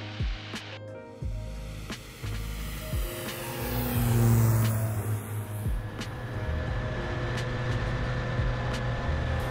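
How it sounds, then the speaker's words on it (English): A Pipistrel Velis Electro electric airplane accelerates on takeoff, a rising whine and rushing air that swell toward the middle and hold steady, heard from inside the cabin with occasional clicks. "it is a little spirited on the takeoff acceleration"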